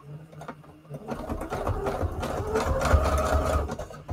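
A sewing machine sews a straight stitch on junk journal tags, a close, steady rattling hum that builds after a second of handling and runs continuously to the end.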